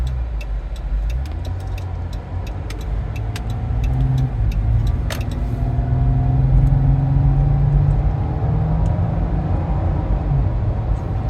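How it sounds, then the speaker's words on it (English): A steady string of cars rolling past on a road, a continuous engine rumble and tire hiss that builds slightly then holds, heard loud and near from inside or beside a vehicle. "It's just like a string of cars, man."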